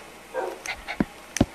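Tamed wolf in Minecraft on Xbox 360 gives short whimpering and barking calls, a soft whine followed by two sharp yips, mixed with faint game sounds and no talk.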